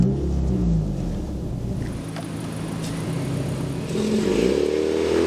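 An Alpine A110 sports car drives on the road, its engine rumbling steadily with rising revs and shifts in pitch, heard close and clear with no talking.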